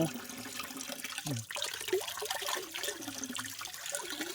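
Water pouring steadily and nonstop from a pipe fed by a deep source, a continuous splashing flow with some gurgling, no voices.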